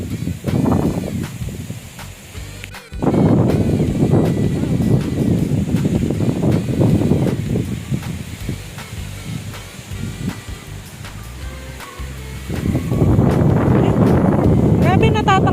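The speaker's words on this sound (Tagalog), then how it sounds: "Grabe, natatangay ako sa hangin." Strong gusts buffet the microphone outdoors at a farm, deep rumbling roar rising and falling in waves with brief dropouts, while someone speaks intermittently through the blustery noise.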